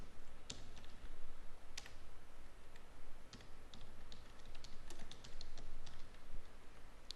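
Someone types on a computer keyboard while filling out an online college registration form, producing soft, irregular clicks and taps close by at low volume, with no talking.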